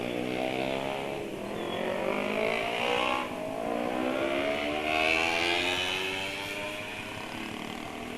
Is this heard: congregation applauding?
no